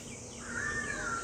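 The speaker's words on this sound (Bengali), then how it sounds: "একটা নতুন ধরনের পাখির ডাক" A single bird gives a thin, drawn-out whistled call in a quiet forest sanctuary, heard from a boat, faint and alone against soft ambient hush.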